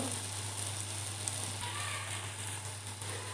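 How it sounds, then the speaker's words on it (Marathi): Konkan masala paste sizzling in oil in a pan, a steady, even frying hiss over a low constant hum, with no talk. "आता आपण हे वाटण थोडंसं दोन ते तीन मिनटं शिजवून घेणार आहोत"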